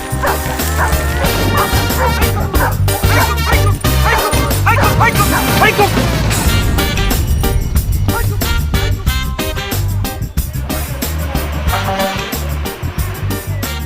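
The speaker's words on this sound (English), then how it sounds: "Now we have the dogsled team." A team of sled dogs barks, yips and whimpers continuously and loudly in a dense overlapping chorus at a Jamaican dogsled racing event, with people's voices mixed in.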